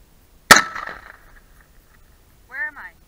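A single sharp gunshot fired at targets outdoors cracks loudly and echoes off briefly, followed after a pause by a short voiced exclamation.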